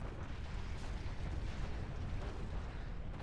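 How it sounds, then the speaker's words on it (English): Dense, continuous rumbling explosions as an army is bombed in the strategy game Planetary Annihilation, heavy overlapping booms with no break. "Nick's army getting bombed to oblivion."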